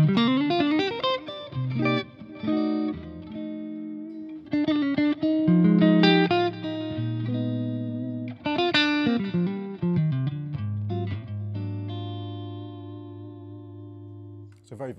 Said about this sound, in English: Select the neck pickup, nice jazzy tones.